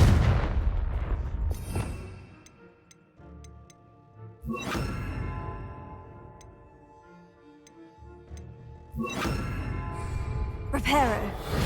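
Several loud Confringo spell blasts in the Hogwarts Legacy video game, each a sharp booming burst that decays into ringing tones, spaced several seconds apart, with quieter chimes and ticks between them.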